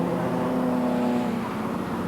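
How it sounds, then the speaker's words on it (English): Race car engines at the 1995 Spa 24 Hours hold a loud, steady drone with a sustained tonal whine, fading slightly toward the end. "The Schnitzer car still ahead of the Bugatti car of Revalia, Piquet and Douay."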